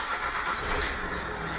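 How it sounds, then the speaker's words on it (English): A Land Rover Discovery 4 engine starts and settles into a steady mid-pitched running note, fairly close and continuous, with no speech. "Tyler's going to get in the car, he's going to start it"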